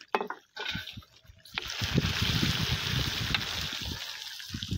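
Water drains from boiled rice for zarda set on a sack, starting with a few splashes and then settling into a steady, loud, close rushing gush of runoff.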